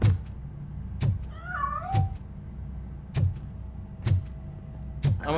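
A cat in the Robocop: Rogue City video game gives a short rising-and-falling meow among repeated sharp, evenly spaced game thumps and clicks, with a faint steady tone behind.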